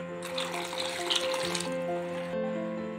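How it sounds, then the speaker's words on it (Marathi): Water poured from a tap or vessel into a kachori filling mixture of crushed niger seeds and salt, a short close splashing flow lasting a couple of seconds before cutting off. "त्याला अजून थोडं पाणी ऍड करायचंय।"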